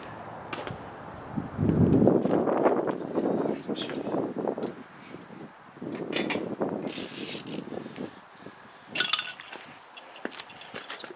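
A ratchet wrench bolting on a rear bumper, close mechanical ratcheting bursts and metallic clinks repeating over several seconds, with handling noise in between.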